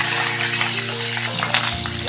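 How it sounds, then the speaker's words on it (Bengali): Slices of coconut fry in hot oil in a wok for a vegetarian Bengali chana dal, giving a steady close sizzle with faint crackles and no voices. "তেলটা গরম হয়ে গেছে, এর মধ্যে দিয়ে দেব ফালি করে রাখা নারকেল।"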